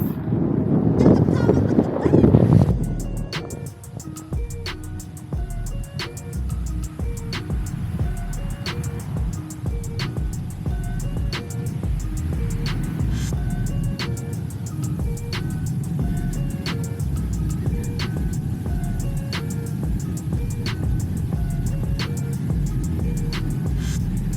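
Veymax electric skateboard ridden at top speed, with a steady rumble of wheels on pavement and constant wind buffeting after a loud gust at the start; a rhythmic ticking repeats throughout at even intervals.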